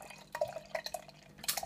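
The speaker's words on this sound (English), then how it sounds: "we're going to go straight in with the pour" Harviestoun Ola Dubh, an 8% porter, is poured into a glass, giving close glugging and dripping splashes with light fizz, a quick irregular run of liquid sounds.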